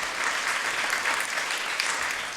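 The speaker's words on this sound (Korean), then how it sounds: "박수로 하나님께 영광 돌립니다" A congregation applauds steadily at a Palm Sunday church service, a dense, even wash of clapping from many hands that holds at one level throughout without pause.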